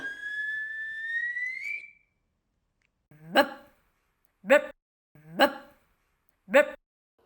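A high whistle-like tone fades out, then after a pause a dog barks four times in separated, sharp bursts, close and clear.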